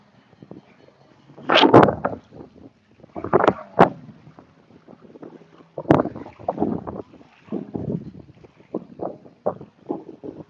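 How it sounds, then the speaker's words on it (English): Wind blows hard outdoors, gusting against the microphone in irregular, rumbling bursts of buffeting that rise and fall throughout, with no voices heard. "It is really windy out here."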